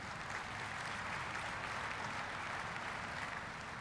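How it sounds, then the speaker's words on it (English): Audience applause at the HP Discover 2013 keynote, a steady, even wash of clapping from a large crowd heard at a distance and sustained without breaks. "yes, you can applaud for that."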